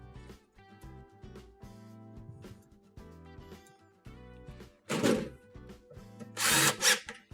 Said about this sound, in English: using the 6 1/4-inch screws we removed earlier, we're going to go ahead and re-secure these